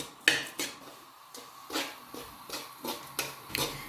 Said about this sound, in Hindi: चलिए मैं थोड़ा सा ज़रा इसको भून लूँ